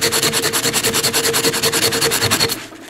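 A tin can of tuna is rubbed upside down against a sharpening stone to grind off its rim, a loud, close, fast back-and-forth scraping that ends abruptly near the finish.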